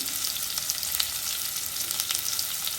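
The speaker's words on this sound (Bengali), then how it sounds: "এখন ভালো করে নেড়ে চেড়ে আমি টমেটোটা একটু কষে নেব" Cumin, chili and coriander powders, salt, a bay leaf and tomato stirred and frying in oil in a pan for a Bengali dal bora curry; a steady, close hiss and sizzle runs throughout with no talking.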